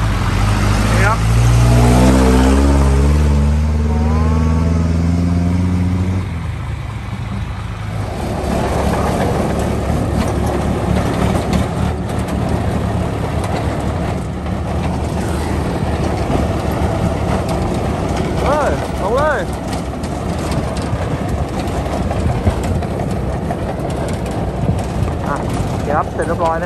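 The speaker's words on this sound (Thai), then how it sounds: "เดี๋ยวเรามาดูหกล้อออกตัวขึ้นท่ากันนะครับ" A six-wheel truck pulls off and drives up a loading ramp on rough farm ground, its diesel engine rumbling loud and close and straining as it climbs, with a person talking over the engine noise.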